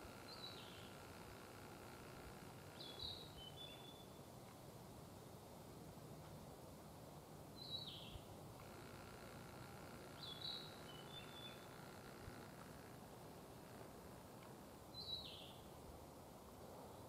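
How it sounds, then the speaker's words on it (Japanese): Small birds in the Koneyama Wild Bird Forest give four short, high chirps spaced several seconds apart, faint and distant above a steady background hiss. "ここの部分ね、上の方にね、まあ小鳥のさえずりが聞こえるんですよ。"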